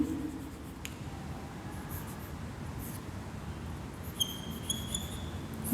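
A teacher writing chemical element symbols, faint scratching strokes of chalk or pen on a board in a quiet classroom, a few short sharper taps near the end.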